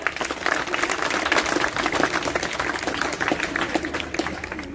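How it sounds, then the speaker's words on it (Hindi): At a youth general knowledge competition in the Braj region near Mathura, a crowd claps loudly and continuously, a thick, even roar of many hands throughout. "बजाओ ताली एक बार जोर से"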